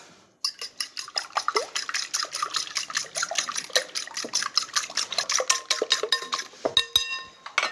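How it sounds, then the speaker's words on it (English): Eggs whisked with salt in a bowl for a zucchini dish, a rapid run of sharp metallic clinks and taps against the bowl, steady and close, with no talking. "some salt, whisk them well"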